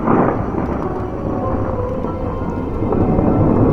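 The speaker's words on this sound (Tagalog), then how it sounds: "Parang may mahinang dagundong ng kulog." A deep, continuous rumble of thunder rolls steadily, heavy and broad, with a faint rain-like hiss above it and no voices.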